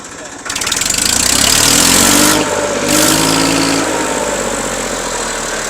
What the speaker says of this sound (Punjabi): ਇਹ ਟਰੈਕਟਰ ਹੋ ਗਿਆ ਮਿੱਤਰੋ ਸਟਾਰਟ